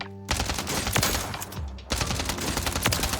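Submachine gun fire in Warzone 3, two loud sustained bursts of rapid automatic shots separated by a brief break, close and dominant with no voices over it.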